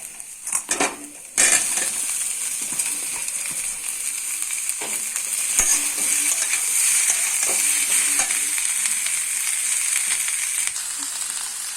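Chopped onion, then potato, frying in a pan for a masala dosa filling: a steady loud sizzle runs throughout, broken by metallic clanks and scrapes of a utensil against the pan, with no talking.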